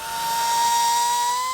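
A power tool dresses the cut edges of 1/8 inch steel plate for a custom truck fender piece, giving a loud, steady, high-pitched grinding whine held close and unbroken throughout.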